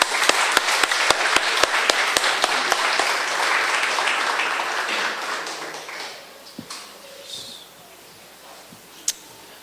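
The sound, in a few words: congregation applauding in church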